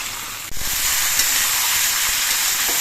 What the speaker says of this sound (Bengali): হাই ফ্লেমে দিয়ে ঝিঙেগুলো কিছুক্ষণ নেড়ে চেড়ে ভেজে নিতে হবে